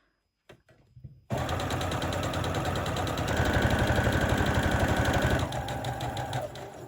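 A sewing machine stitches bunting fabric at a 3.5 stitch length, starting after a few soft clicks and then running in a loud, steady, rapid mechanical whir that speeds up briefly before easing slightly near the end.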